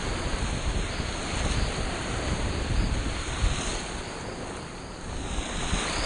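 Ocean surf rolls in steadily beside a house with a black dragon cryptomeria tree, a continuous broadband wash of breaking waves with wind buffeting the microphone, no voices.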